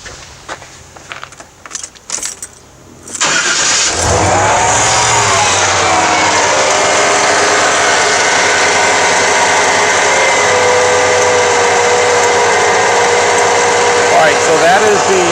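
A GM TBI Chevy V8 fires up after some clicks and clatter, then settles into a loud, steady idle that runs unbroken to the end, close to the engine with no talking.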